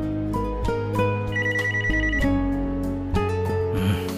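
A telephone rings with a repeated electronic ringtone melody, loud and close, in an indoor scene, with no voices over it.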